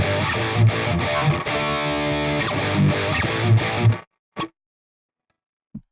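Distorted electric guitar strikes a run of loud, chugging power chords in a rhythmic pattern for about four seconds, then cuts to near silence broken by two brief taps.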